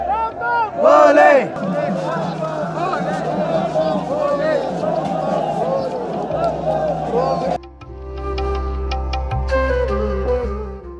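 A huge crowd of pilgrims on the Kedarnath trek chants loudly and continuously in a dense mass of voices, then the chanting drops away and a quieter, nearer murmur takes over.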